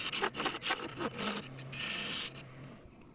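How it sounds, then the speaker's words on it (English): A tiny skew chisel shaves and scrapes along the edges of spinning wood on a lathe, an irregular gritty rasping with short bursts, close by and fairly quiet, no voices. "I used a tiny skew chisel to refine the edges until they were approaching perfection."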